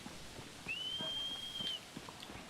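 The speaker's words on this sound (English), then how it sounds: "No matter how many times he whistles, he just won't come back." In Shadow of the Colossus, Wander gives a single long, clear whistle calling his horse Agro, a sustained steady tone lasting about a second over quiet ambient background.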